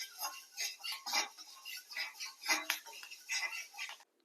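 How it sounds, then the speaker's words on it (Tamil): Fenugreek seeds being roasted and stirred in a pan for lemon pickle, producing a continuous faint, crackly rattle of small seeds shifting and ticking against the metal, with a few slightly stronger scrapes. "ஒரு டேபிள் ஸ்பூன் வெந்தயம் நல்லா வறுத்து எடுத்துக்கணும்"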